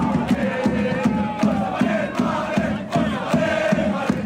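Football supporters chant and cheer at the Barbera stadium in Palermo to welcome the Palermo team on a hot, humid evening, a dense crowd roar with rhythmic pulsing beats throughout.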